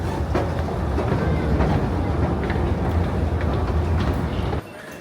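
A London Underground tube train heading from Euston gives a loud, continuous rumble with rattling and clicking wheel noise that stops abruptly near the end of the ride.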